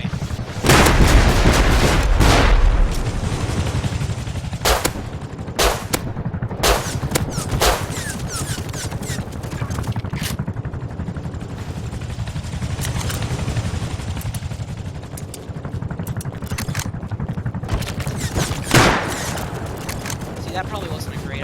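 Gunfire in the Rust video game, aimed at an attack helicopter, comes as repeated sharp shots and bursts over a constant low engine and rotor drone, loud and dense throughout, with a voice talking over it.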